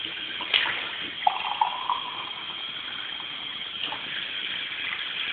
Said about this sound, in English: There's milk coming out of my sink.